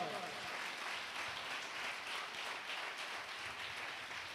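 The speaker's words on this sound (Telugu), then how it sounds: "కొట్టు చప్పట్లో." A congregation clapping together at a Sunday church service, a steady, distant wash of applause sustained at an even level for several seconds.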